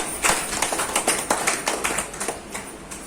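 A small audience at a health and business seminar in a dhaba claps in a brisk burst of scattered, overlapping hand claps, moderately faint, fading out over about three seconds.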